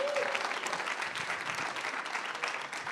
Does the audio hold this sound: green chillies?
no